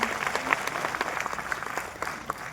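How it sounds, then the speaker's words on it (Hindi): Dense applause from an audience at a business meeting, with many hands clapping steadily for a couple of seconds, bright and fairly close, with no talking over it. "अच्छी लगे तो ताली बजाना।"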